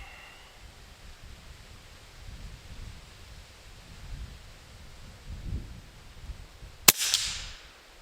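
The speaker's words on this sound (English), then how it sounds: "Now we have the Slayer, 100 grain hollow point in here. Let's take a shot with that." A single sharp .357 revolver shot firing a Slayer 100 grain hollow point slug cracks out near the end, brief and fairly loud over quiet outdoor wind rumble.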